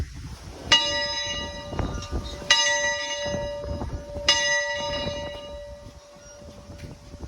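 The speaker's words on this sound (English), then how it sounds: "I'm gonna ring this old Baldwin" The bell of an old Baldwin steam locomotive at a railroad museum rings out three times at about two-second intervals, each loud clang ringing on and fading, with soft background bumps and movement between strikes.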